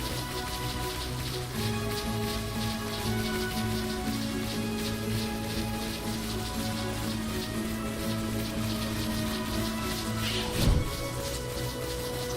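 Rain falls steadily in the video game Final Fantasy XII, a constant hiss of drops under a faint tonal backdrop, with one brief louder thud near the end.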